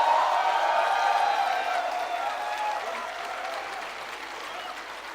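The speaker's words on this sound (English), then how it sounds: "Keep cheering, guys, for your program chair." A convocation audience at an MBA ceremony applauds and cheers, dense clapping with shrill whoops loud at first then gradually fading over several seconds.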